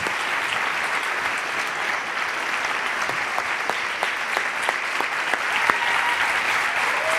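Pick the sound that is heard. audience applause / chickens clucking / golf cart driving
audience applause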